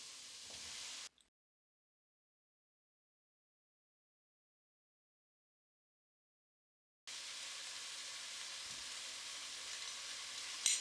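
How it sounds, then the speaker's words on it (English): Potatoes sautéing in a pan for a harissa chickpea stew give a steady, close sizzle and fry hiss, broken by a long stretch of silence in the middle before the sizzling resumes. "we're going to add the potatoes, get that mixed in, and we're just going to saute for about another minute"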